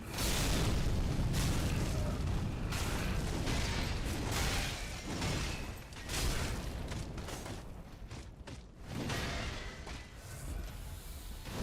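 Repeated fiery spell blasts boom and burst in a Dark Souls III Ringed City fight, a dense loud barrage of explosive impacts with scattered mechanical clatter and no talk.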